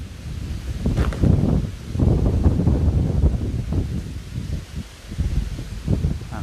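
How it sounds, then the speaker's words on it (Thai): Strong morning wind gusts outdoors at a Thai temple site, buffeting and roaring in uneven surges with rustling, loud and close to the microphone, no voices. "ลมแรงมากๆเลยเช้านี้"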